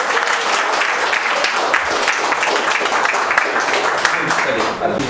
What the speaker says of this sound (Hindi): चले ताली बजाइए।